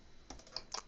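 Keystrokes on a computer keyboard while a password is entered during TP-Link RE205 Wi-Fi extender setup, three or four quiet, separate clicks spaced about a quarter second apart, close and alone.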